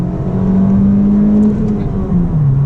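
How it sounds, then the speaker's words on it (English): A manual car's naturally aspirated engine pulls hard at full throttle in second gear, a loud, steady drone rising in pitch for nearly three seconds with no voices over it. "Second gear, full throttle,"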